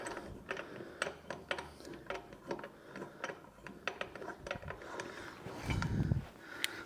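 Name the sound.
socket wrench tightening brake bolts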